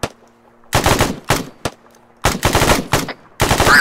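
Machine gun fire in the video game ArmA 3 comes in several loud, close bursts of rapid shots, separated by short quiet gaps with a low background hum.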